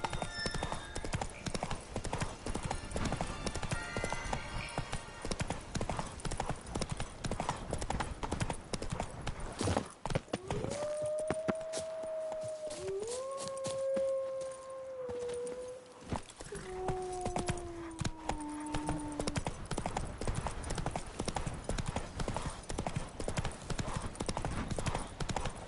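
Roach the horse's hooves clip-clop steadily throughout a video game scene, close and loud, with voices speaking over the middle stretch.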